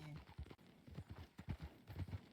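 A horse's hooves clip-clop along a trail in a video game, a quick, steady close-up rhythm of soft thuds at low volume.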